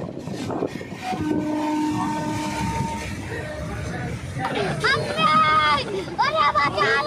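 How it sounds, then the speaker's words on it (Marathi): A moving train between Goa and Kankavli rumbles steadily with a long horn blast in the distance, while people talk loudly nearby over the noise. "तर ट्रेन आपली चालू झालेली आहे."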